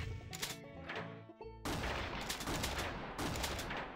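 Rapid bursts of arcade-style rifle fire in Big Buck Hunter: Call of the Wild, a sharp loud shot opening a dense, sustained barrage of blasts over game music, with a second burst near the end.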